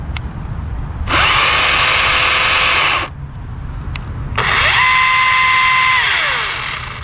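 An electric chainsaw running after its chain brake is released, two loud high-pitched whining bursts revving up and winding down with a short pause between, close by over a steady background hum.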